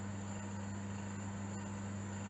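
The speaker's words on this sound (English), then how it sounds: "Yes, it's my oven." A kitchen oven running gives off a quiet, steady electrical hum with a faint airy hiss, unchanging for a couple of seconds before it cuts off abruptly.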